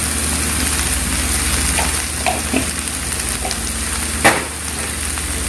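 Okra and bitter gourd frying in a pan with curry powder, a loud continuous sizzle with occasional scraping stirs and one sharp clatter, no voices.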